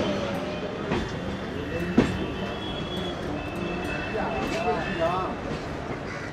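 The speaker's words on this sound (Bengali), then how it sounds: "তো এই ট্রেন করেই কিন্তু আমরা পৌঁছাবো ক্যানিং।" Canning local train at Sealdah station, Kolkata: a steady rumble of the train and station ambience runs throughout at moderate level, with a sharp clank near two seconds and people talking over it.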